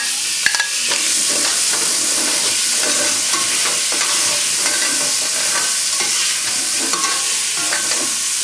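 Shrimps hit a hot pan for a seafood and chicken stew, giving a steady close sizzle and fry hiss throughout, with stirring clatter and small utensil taps over it.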